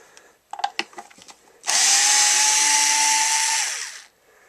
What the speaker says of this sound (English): Now we can just remove the rest of the screws and we can get the back cover off.